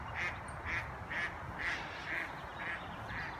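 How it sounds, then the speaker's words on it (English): Ducks by a small springtime stream quack in a steady series of about seven calls, fairly faint and moderately distant against soft outdoor background noise. "these ducks think I'm in their house"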